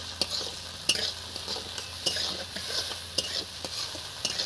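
Potato and cauliflower curry stirred in a pan, soft sizzling beneath a regular rhythm of spoon scrapes and light clicks, fairly quiet and close, with no talking.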